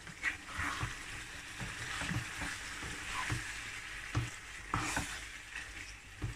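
Chicken pieces frying in a pan for a green haryali curry, a soft continuous sizzle with periodic scrapes and taps as the meat is stirred.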